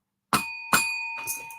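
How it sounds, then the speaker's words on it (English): A notification bell sound effect rings three times, each strike a bright ding with a sustained ringing tone, the first two loud and a softer third near the end, with no talk. "Click that all notification bell."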